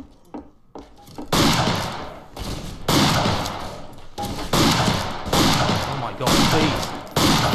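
Repeated gunfire bursts from the Western shooter game Fistful of Frags, loud and close, several sharp volleys over about seven seconds with a brief voice speaking over the start.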